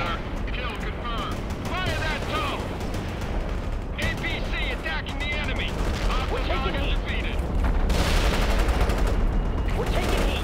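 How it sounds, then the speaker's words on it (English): Rapid bursts of gunfire and explosions in the World in Conflict war video game, dense and continuous, with shouted voices and radio chatter over the battle din. "They're firing at us."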